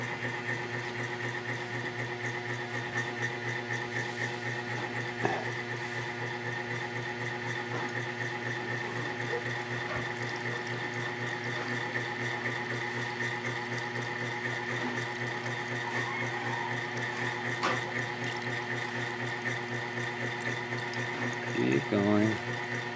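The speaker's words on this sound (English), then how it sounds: "So the next step is to just pour the brine in there." Brine pours into a jar of okra being naturally pickled, a steady splashing stream that runs continuously beneath a persistent mechanical hum, with a few faint knocks near the end.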